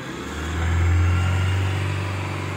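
A used car's engine is revved once in a steady rise and fall, a loud close rumble that swells mid-clip and then eases back toward idle, with no talk.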